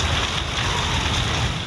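Pre-monsoon rain pours steadily in Murree, a dense, loud hiss of drops on surfaces that stays constant throughout the short stretch with no voices over it.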